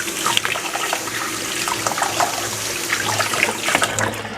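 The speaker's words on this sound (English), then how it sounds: "so let me rinse." Water runs steadily from a kitchen tap while something is rinsed under it, a continuous close splashing hiss that varies slightly as the stream is interrupted, with no talking.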